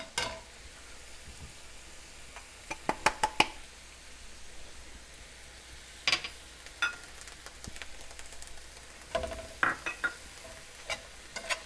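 Garlic, lemongrass and jalapeno stir-fried with broccolini in a hot pan for a Thai lemongrass chicken stir fry, giving scattered scraping stirs and brief clatters over a faint, steady sizzle.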